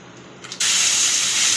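Asafoetida and turmeric hit hot oil with mustard seeds, bursting into a sudden, loud, steady sizzle that holds on after a faint tick.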